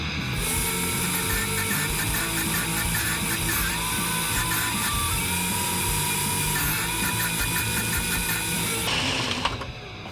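A surface grinder skims a W2 or 1095 steel blade with a continuous loud mechanical whir and a layered, repetitive rhythmic pattern. The sound shifts briefly near the end as the pass finishes.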